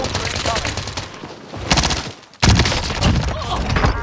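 Rapid, dense submachine gun bursts in the online shooter Call of Duty: Warzone, loud and close, firing in sustained rattling volleys with a brief lull before another burst.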